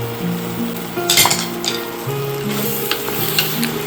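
Red Merlot wine pours into a hot pan of beef stew with tomato paste, onion, carrots and mushrooms, giving a steady close sizzle with a few clinks of utensils against the pot.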